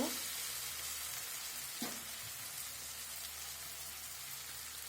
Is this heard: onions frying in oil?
yes